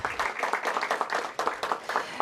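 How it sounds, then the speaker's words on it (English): A room of attendees claps for a council member being introduced at a mayor's press briefing, a brief burst of brisk, close clapping with a hint of voice underneath. "Give him a big round of applause."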